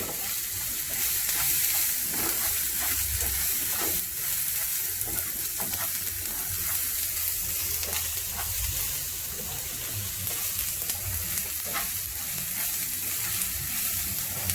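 Tomato, onion and garlic fry in a pan for Mexican rice, giving a steady, loud sizzle throughout with occasional stirring scrapes and no talking.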